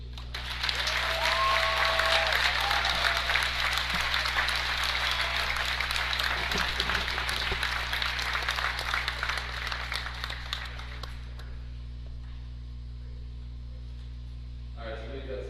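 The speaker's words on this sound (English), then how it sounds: "Please join me in a round of applause to express our thanks to these young men and their parents." Audience at a boys varsity high school basketball game applauds the young players and their parents: a loud, sustained wash of clapping for about ten seconds that then fades to a quiet hall.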